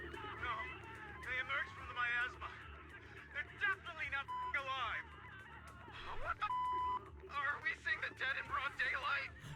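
Censor bleeps cut over swearing in a video game cutscene from Zenless Zone Zero, two steady flat tones a couple of seconds apart breaking into busy overlapping talk and shouting.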